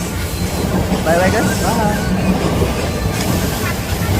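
Inside a moving Mumbai local train, a loud, steady rumble of wheels and carriage fills the air with occasional squeals of metal, while people talk and a voice is heard over the noise.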